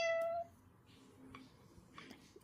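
A cat gives a single short, clear meow at the very start, close and fairly loud, followed by a quiet room with a few faint soft noises.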